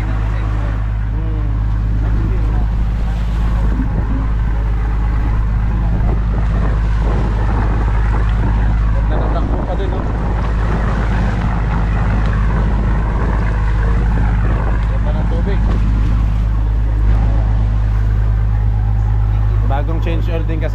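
A fishing boat's engine drones steadily and loudly throughout, a constant low hum with wind buffeting the microphone and faint voices underneath.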